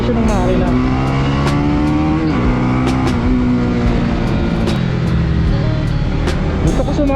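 Honda Winner X underbone motorcycle engine at full throttle on a racetrack, a loud, steady high-pitched drone with rising and shifting pitch through gear changes, close and continuous while a rider talks over it.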